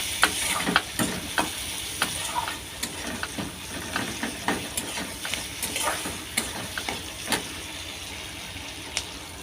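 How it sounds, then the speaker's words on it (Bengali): Onions with salt and turmeric fry in a pan with a steady sizzle and repeated sharp scraping and stirring clicks at an uneven rhythm, close up, no voices. "পেঁয়াজটা হালকা করে ভাজা হয়ে গেছে"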